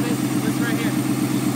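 Ford Mustang engine idling close by, a steady low rhythmic burble with even pulses for a short stretch.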